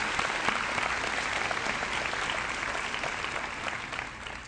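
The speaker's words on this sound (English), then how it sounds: "please give them a round of applause for everything they have done." An audience at a 2012 high school graduation ceremony applauds, steady dense clapping filling the hall and tapering slightly at the end.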